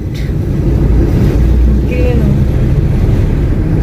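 A car engine drones steadily from inside the cabin while the car is driven on a road with bumps, with low rumble and road noise throughout, and a voice speaking over it.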